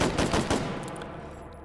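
Rapid bursts of battle rifle fire from a video game, with several sharp shots packed into the first half second and then a fading, echoing tail.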